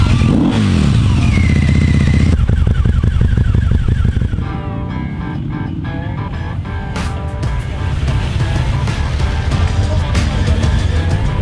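Motorcycles at a biker gathering in East Frisia ride past and rev loudly, engines roaring close by with throttle blips and a steady rumbling crowd of bikes throughout.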